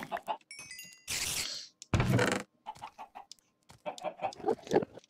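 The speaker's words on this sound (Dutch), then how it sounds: "oh nee, nu heb ik de kip gedood." Chickens in the Minecraft video game cluck and squawk in short bursts between game sound effects, with occasional hurt-animal cries near the middle.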